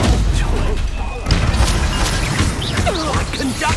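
An Expulso explosion spell in Hogwarts Legacy bursts with a booming blast among crashing combat effects, loud and near, while voices talk over the fight.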